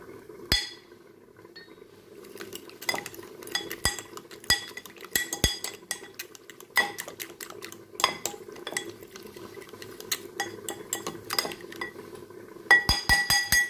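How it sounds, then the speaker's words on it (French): A whisk beats flour, water, salt and pepper together in a bowl, making sharp, irregular glassy clinks and taps against the bowl over a quiet background, with a quick cluster of strikes near the end. "Je vais le mélanger avec le fouet, comme ça il se mélange mieux."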